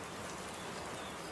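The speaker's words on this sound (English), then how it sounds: "Raining. Lots." Steady rainfall makes a soft, even hiss that stays unchanged throughout, faint and continuous with no voices.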